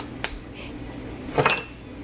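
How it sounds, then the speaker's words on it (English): A wire whisk stirs dry cookie ingredients, flour with cinnamon and cocoa, in a bowl, giving a few quiet metallic clinks and light scrapes against the bowl's side. "So we'll just whisk these all together"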